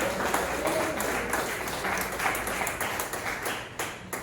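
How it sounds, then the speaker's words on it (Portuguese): Church congregation applauding during a healing and deliverance service, a dense, steady wash of clapping from many hands filling the room, with some voices mixed in underneath. "E você pode aplaudir o Senhor."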